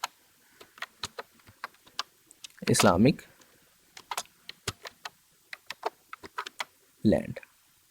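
Computer keyboard typing, a run of light, irregular key clicks close by, with a couple of short bursts of voice sound breaking in between the taps.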